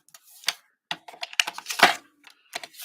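Scissors cut paper along a marked line for a folded card, several short, crisp snips in uneven bursts separated by brief silences, close and clear.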